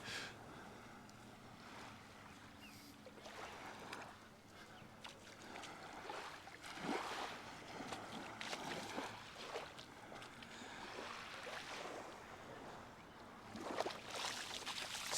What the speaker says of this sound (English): I don't know if you can hear the wind, but it has picked up a little bit.